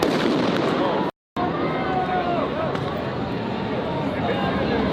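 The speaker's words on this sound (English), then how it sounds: "Flashbangs are just like Call of Duty. Just like CSGO." Flashbang grenades burst loudly at a street protest, one sharp bang cutting through a dense roar of crowd noise and shouting voices.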